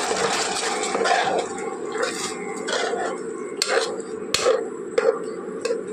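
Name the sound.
water being added to the cooking pan for egg biryani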